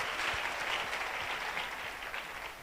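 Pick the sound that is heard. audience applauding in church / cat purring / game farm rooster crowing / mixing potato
audience applauding in church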